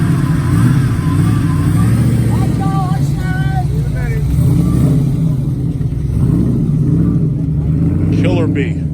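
Mopar muscle cars, a Shaker 426 and a Dodge Hellcat, rumble at an outdoor car festival, with a deep continuous engine drone, some rising revs and voices talking over it throughout.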